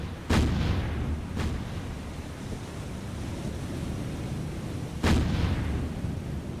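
Heavy battleship guns boom in the naval video game War on the Sea, with three distant, muffled shots over a constant roar of wind and sea, the first and last louder than the middle one.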